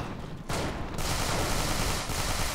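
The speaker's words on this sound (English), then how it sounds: "I get shot from the upper levels here" Dense, continuous gunfire rattling in Manhunt 2, a steady barrage of shots from enemies on upper levels, loud and sustained with brief dips between bursts and no talk.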